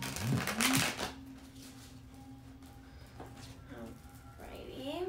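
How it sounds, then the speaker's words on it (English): Tarot cards are shuffled in a quick, rustling burst near the start, followed by quieter handling, faint voice-like tones and light background sounds. "Do one more shuffle here."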